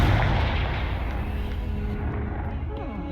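A Confringo fire spell blast in Hogwarts Legacy booms out loudly at the start, then rumbles and fades across a few seconds against game ambience, with a brief spoken spell name.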